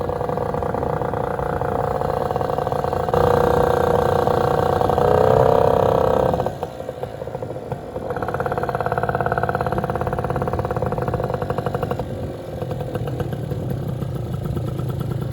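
A Vento Triton R4 motorcycle engine fires up for the first time, a steady mid-pitched idle that rises in a louder rev, dips sharply, then settles into an even run with a second raised stretch, close by with no talk.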